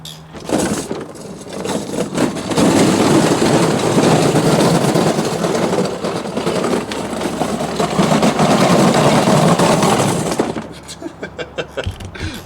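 A Power Wheels ride-on toy rolls on rattly Harbor Freight caster wheels, giving a loud, sustained clattering rumble with a low motor drone for about ten seconds, then a few separate knocks as it stops.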